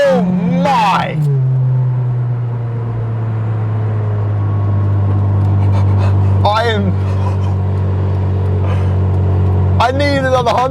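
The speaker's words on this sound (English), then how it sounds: "Let's see what like a 170 wheel kilowatt K24 goes like" A Honda Integra Type R with a K24 engine making about 170 wheel kilowatts revs hard, its loud exhaust rising, then settling into a deep sustained drone, with short rising blips later on and voices talking over it.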